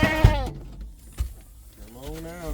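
A rescued stray goat bleats twice, one loud wavering cry at the start and a longer quavering bleat near the end, with a quiet gap between.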